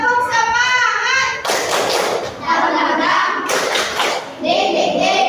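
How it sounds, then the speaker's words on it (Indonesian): A school class stands and performs a rhythmic spirit clap, bursts of clapping and thumps mixed with children's voices chanting along, close and lively. "Kita berdiri, yuk kita tepuk semangat dulu."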